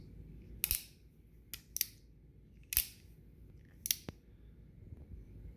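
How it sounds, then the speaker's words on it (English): An 1851 Colt Navy .44 caliber revolver being cocked: a series of sharp metallic clicks, two to three closely spaced per cycle, repeated four times at close range with no voices. "Just listen to that cocking."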